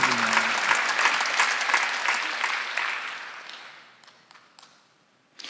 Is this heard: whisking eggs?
no